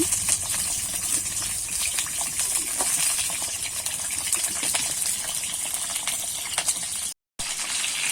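Pointed gourd (potol) frying in a pan gives a loud, continuous close hiss and sizzle with light crackles, briefly broken by a short gap of silence.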